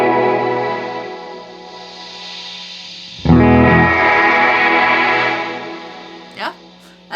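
Guitar through a Walrus Audio R1 reverb pedal, a sustained washy tone that swells louder with a fresh strum around the midpoint, then decays with brief bright plucks near the end.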